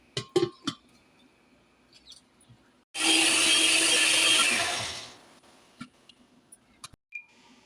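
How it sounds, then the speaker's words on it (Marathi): A kitchen mixer grinder whirs loudly for about two seconds while chopping ginger and garlic pieces for Schezwan chutney, starting abruptly and winding down, with scattered clinks and handling knocks before and after. "आलं लसूणचे पण तुकडे करून घेतलेत ते पण याच्यात आपण बारीक करून घेऊया"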